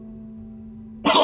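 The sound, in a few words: character coughing in The Wolf Among Us video game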